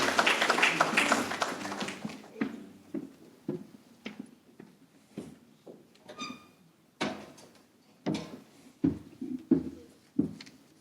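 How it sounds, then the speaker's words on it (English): At an elderly fraud awareness talk, an audience gives a short, fairly distant round of applause that fades within a couple of seconds. Scattered claps, knocks and shuffling sounds follow in a quiet room. "Please give him another round of applause."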